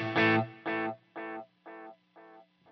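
A Line 6 Helix delay in parallel routing, with a tone repeating five times in steady rhythm and fading with each echo, the repeats dry and clean with no reverb tail.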